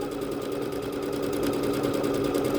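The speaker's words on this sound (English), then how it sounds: "Let's see what it looks like as it stitches out. This one is going to stitch a little more quickly than our previous one." A Bernette B-77 sewing machine stitches out a decorative leaf stitch at a fairly quick pace, its steady rapid needle chatter and motor hum continuing loud and close for the whole stretch with no talking.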